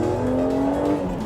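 BMW M car revving hard, a brief close engine note climbing slightly in pitch over about a second, loud and alone.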